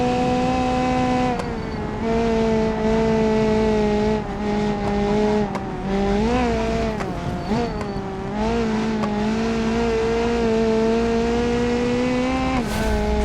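A 1990s touring car in BeamNG at full throttle around the Nürburgring Nordschleife, its engine note loud and close, holding a steady rev band with brief dips and rises through shifts and corners, a faint tire squeal near the end.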